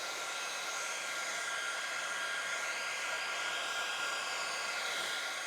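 A hair dryer blows steadily on wet watercolour paint, a loud continuous whoosh that stays even from start to finish with no talking.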